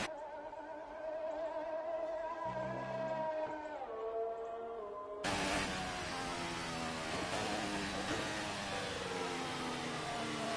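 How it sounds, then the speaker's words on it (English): Formula One race car in a video game, engine note held at high revs and bouncing off the rev limiter, a steady buzzing drone with harmonics that jumps louder and harsher midway and stays loud to the end. "Sounds like the car's bouncing off the rev limiter."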